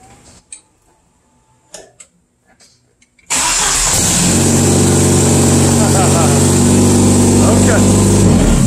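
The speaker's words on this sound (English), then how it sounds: "He wants to crank it up and hear how it sounds with his little four-cylinder Jeep." A four-cylinder Jeep engine running with its muffler off cranks after a few faint knocks and clicks, then catches and settles into a loud, steady, raw roar that carries on close by.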